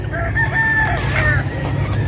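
Roosters crow and chickens cluck at a poultry farm, a close rooster crow standing out above steady flock noise with no talking.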